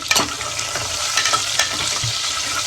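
Curry leaves sizzle loudly as they hit hot oil while sambar is being prepared, a dense continuous crackle with sharp pops near the start, close and steady throughout with no talking.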